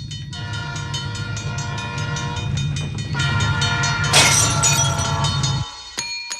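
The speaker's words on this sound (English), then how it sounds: "I'm going to insert the actual train horn." A freight train's horn blares in long sustained blasts over the rumble of passing rail cars, loud and close, then the train noise cuts off abruptly near the end leaving a brief clatter.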